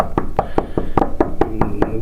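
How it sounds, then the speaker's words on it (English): Knuckles rap on a door in a steady series of about ten sharp knocks, near and fairly loud, during an encounter with police, with faint background noise and no talk. "And here we are knocking again"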